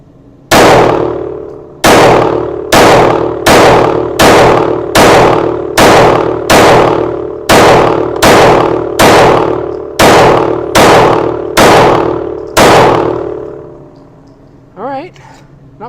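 Pistol shots from a Palmetto State Armory Micro Dagger firing 124 grain reloads: about fourteen loud, sharp reports in a steady, evenly spaced rhythm, each ringing briefly, close up, followed by a short voice at the end.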